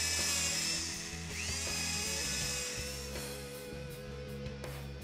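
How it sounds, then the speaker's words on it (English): A power drill pre-drills holes with a 1/8 inch bit for a vault install, a steady whining motor hum with tonal harmonics running continuously, close and moderately loud, with slight pitch dips as the bit bites. "pre-drill the holes with an 1/8 inch bit"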